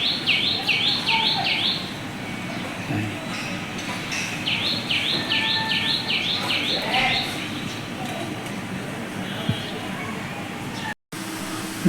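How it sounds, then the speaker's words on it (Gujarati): A black sparrow chirps in two quick, trilling bursts of high notes, moderately close, over a steady murmur of outdoor background noise. "બ્લેક કલરની ચકલી છે."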